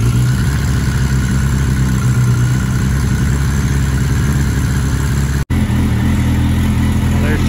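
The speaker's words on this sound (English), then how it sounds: "Still on choke. Yes, in nice shape. Yoshimura pipe sounds really nice." A 1998 Suzuki Bandit 1200 with a Yoshimura exhaust idles on choke, a steady low throbbing rumble held loud and close with a brief dropout near the end.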